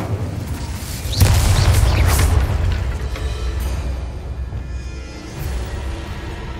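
Incendio, a fire spell in Hogwarts Legacy, erupts in a sudden loud whooshing blast that roars for about a second before fading into a lingering low rumble of flames and ambience.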